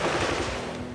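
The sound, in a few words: gunfire in jungle combat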